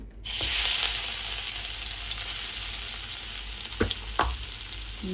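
Garlic sizzling in hot oil in a home kitchen, a loud bright crackle bursting in after a brief quiet start and holding steady, with a couple of sharp utensil clicks near the end.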